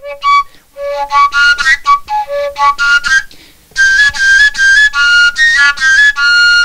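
A Moldovan fluier folk whistle plays a lively, ornamented melody of bright, piercing notes in quick phrases, loud and close, with a brief pause midway before the tune resumes.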